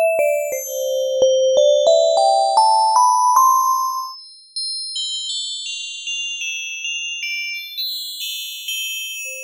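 Bell tones from a wavetable oscillator in Reason's Thor synthesizer ring out in a rising sequence of struck notes, then higher shimmering chimes follow one after another, clear and loud.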